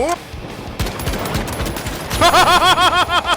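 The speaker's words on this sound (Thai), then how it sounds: "สไนเปอร์โดนปืนสั้นยิง" Rapid pistol shots in the shooter game The Finals, a fast run of sharp, loud cracks with echoing tails, first fired in a quick cluster and then repeated steadily near the end.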